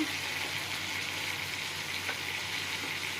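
Spice masala with tomato fries in a pan for rui fish curry, giving a soft, steady sizzle with faint scraping stirs, fairly quiet and continuous.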